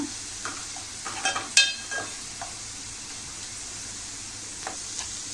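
Malvani masala fries gently in a pan with peas nearby, a soft steady sizzle broken by a few quick scraping stirs of a spoon near the start, fairly quiet and close, with no talking.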